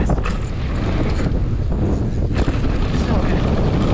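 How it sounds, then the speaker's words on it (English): Steady wind roaring across the microphone at a ski area, a dense continuous rush with buffeting gusts throughout. "Oh, the wind's picking up."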